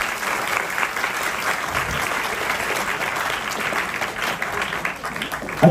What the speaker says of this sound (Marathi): आपण सर्वात पहिल्यांदा या सर्वांचं जोरदार टाळ्या वाजवून स्वागत करूया